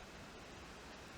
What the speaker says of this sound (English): It's raining, in case you're hearing this odd staticky white noise behind me.